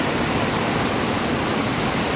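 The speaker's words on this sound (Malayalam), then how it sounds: "ചെറിയൊരു വെള്ളച്ചാട്ടമൊക്കെ ഉണ്ട്" A small waterfall in forest at Pirappamankad during a rainy spell, heard as a steady broadband rush of falling water, even and fairly close, with no talk.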